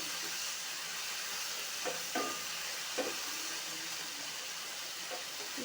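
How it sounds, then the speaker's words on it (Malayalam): A stir-fry of sliced okra sizzles steadily in a covered pan as it is opened and stirred, a soft even hiss with a few faint scraping stirs near the middle, no voices. "ഞാൻ ഇടയ്ക്കൊന്ന് തുറന്ന് നോക്കിയിട്ടുണ്ട് ഒന്നുകൂടെ ഇളക്കി വെക്കാമെന്ന് വെച്ച്"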